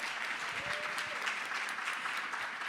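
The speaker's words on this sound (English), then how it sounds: "So first, applause for Shelley" Audience at a 25th anniversary celebration breaking into dense, steady applause, a continuous wash of clapping heard from within the room.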